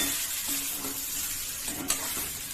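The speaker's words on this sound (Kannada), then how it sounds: "ಫ್ರೈ ಮಾಡ್ಕೊಳ್ಳಿ. ಈಗ ಇದಕ್ಕೆ ಇಡ್ಲಿ ಹಾಕೊಂಡ್ಬಿಡ್ತೀನಿ." Cut leftover idli pieces frying in spiced oil in a pan, a steady close sizzle with a few soft stirring scrapes and one brief clink, no voices.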